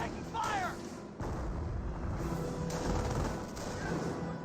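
Aircraft strafing run in the Company of Heroes game: a burst of rapid gunfire and booming impacts amid continuous battle noise, with a descending whine early on and commentary speech underneath.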